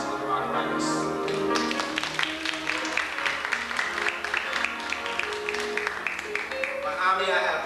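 Applause for a band rises at a live stage show, steady clapping mixed with music and a voice speaking over the crowd.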